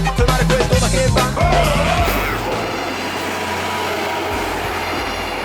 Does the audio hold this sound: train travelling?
yes